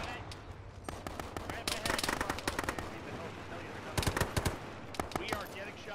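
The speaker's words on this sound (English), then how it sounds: "We are getting shot at in contact." Gunfire in the ArmA military video game, with rapid machine-gun bursts and scattered rifle shots from mid-distance, including a loud cluster of shots near the end, under occasional radio-style talk.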